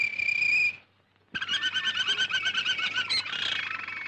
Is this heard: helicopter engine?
no